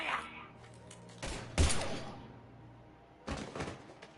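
Gunfire in the Mass Effect 3 game: a few sharp, loud bursts of shots spaced apart, with a heavy blast near the middle and another volley toward the end over a quiet background.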